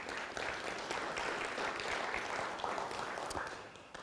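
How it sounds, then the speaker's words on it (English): A Rotary club luncheon audience gives a steady, fairly faint round of applause for an honoree, with the clapping thinning slightly at the close. "One more round of applause for Kurt."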